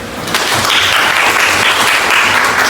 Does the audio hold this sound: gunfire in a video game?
no